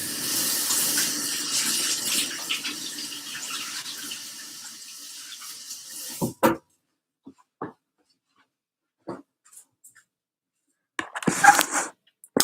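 Hands are washed under a running kitchen tap during bread baking, a steady close-up splash of water for about six seconds, then it stops and brief scattered clunks and handling sounds follow.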